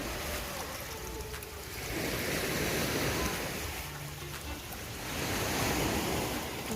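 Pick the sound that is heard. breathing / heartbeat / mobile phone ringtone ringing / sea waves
sea waves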